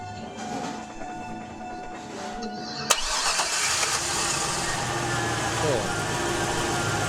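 A Chevy Silverado pickup with a shifting fault cranks and fires up, a sharp catch followed by a steady, loud idle humming close by, with talking over the engine noise before it starts.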